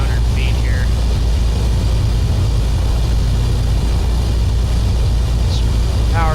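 A continuous, loud engine and propeller roar from a DHC-6 Twin Otter in Flight Simulator X on approach to land, steady throughout, with brief chirps from cockpit sounds or a voice.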